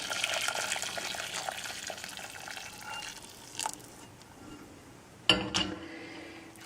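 Hot water is poured into a pot of rice on the stove, making a soft splashing, trickling stream that fades, followed by a brief louder sizzle and clatter.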